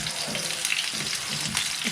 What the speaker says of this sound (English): And I'm just going to let that sear for a couple of minutes.